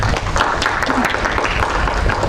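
Audience applause at a grooming workshop session, a dense steady round of clapping filling the room throughout, fairly loud and close.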